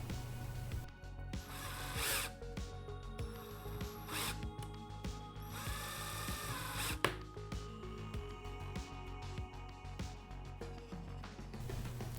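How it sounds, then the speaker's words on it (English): A small power drill whirs in short bursts against metal, drilling out the rivet holding the glass of a Matchbox No 44 Rolls Royce Phantom V diecast toy car, with clicks and mechanical rattles between passes. "Now we're just going to drill at the single rivet which is holding in the glass of the car"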